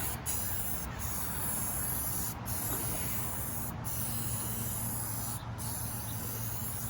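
Krylon spray paint hisses steadily from a can coating a truck grill outdoors in a backyard, a continuous close spray with brief breaks between passes.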